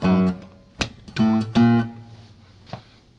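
Fingerstyle acoustic guitar bass line over a blues five chord, a few plucked low notes and short strums in a brief, close, moderately quiet phrase with gaps between notes.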